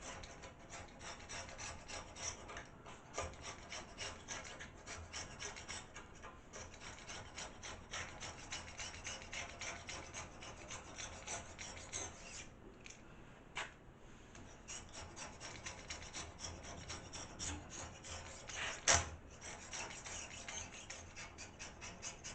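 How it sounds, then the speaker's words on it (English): Blade scraping old material off a wooden bar pool table, a continuous rough rasping scrape with quick repeated strokes and a sharper dig near the end, quiet and close with no talking. "That was the blade digging in there."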